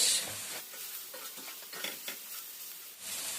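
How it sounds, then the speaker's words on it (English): Gentle sizzling and bubbling of rice and beans jollof ingredients frying in a pot on low heat, soft and close, with a light stir or scrape partway through. "I'm still frying it on a low heat"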